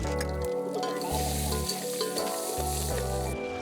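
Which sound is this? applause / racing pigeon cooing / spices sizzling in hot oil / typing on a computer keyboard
spices sizzling in hot oil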